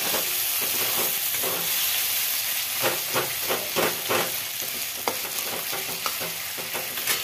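Chopped onion and garlic frying in a pan for a chicken curry with potato and cauliflower, a steady close sizzle with repeated scraping stirs of a spatula, no voices.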